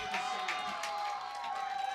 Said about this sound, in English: And the crowd roars its approval